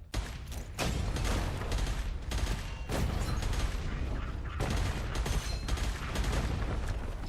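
Rapid gunfire and booming explosions from a first-person shooter game fill the scene, loud and nearly continuous, with dense bursts and heavy low-end thumps throughout.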